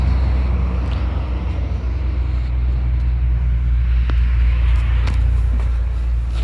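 A 2006 Ford F-350 King Ranch Super Duty with a 6.0 Powerstroke diesel V8 idles steadily, a low constant rumble heard close up with light wind buffeting and no talk.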